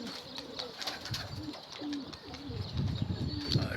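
Pigeons coo softly nearby, a few low repeated coos over a background of light rustling and faint chirps, with no talking.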